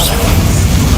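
Bombarda spell explosion in Hogwarts Legacy: a single loud, close, low booming blast that fills one second, with a heavy rumbling body and no talk over it.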